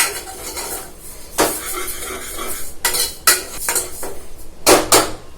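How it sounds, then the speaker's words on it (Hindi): Lentils roast in a pan while a spoon scrapes and clanks against the metal, giving sharp irregular clinks and knocks over a soft sizzle, close up with no voices. "अब मैं इस दाल को भी थोड़ी देर भून लूंगी। देखिए मैं दाल भी भून रही हूँ ऐसे ही।"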